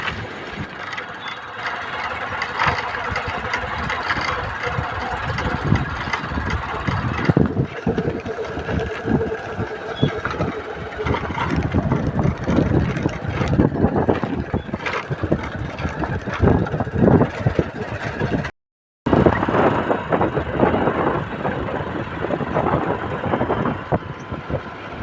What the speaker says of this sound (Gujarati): બીજી વાડીએ બાઇક લઈને નીકળી ગયા છે આપણે